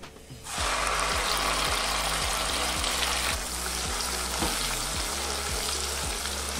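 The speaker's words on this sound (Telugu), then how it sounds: "మసాలాను బాగా వేపుకోవాలి।" Spices such as cumin and a ground masala paste for paneer masala frying in a pan, with a loud, steady sizzle throughout and regular scraping strokes of a stirring spoon.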